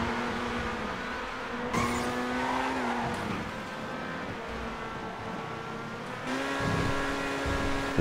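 Race cars in a GTA racing game roar at high revs with shifting engine pitch, brief tire squeals and a car passing, continuous and loud throughout.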